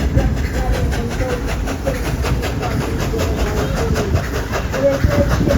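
Dollywood railroad's number 70 steam locomotive running at the park, a steady low rumble and rolling rail noise that holds loud and even throughout with faint crowd or voice sounds underneath.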